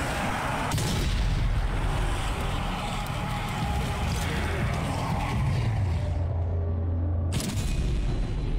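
Gunfire in the Zombie Army 4 video game, a dense stream of loud booming shots and rumbling blasts that cuts out near the end before another burst, with a player's voice briefly over it.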